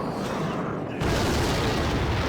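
Rocket spell striking a tower in Clash Royale, a sudden loud booming impact that swells into a dense rumbling blast and lingers through the rest of the moment.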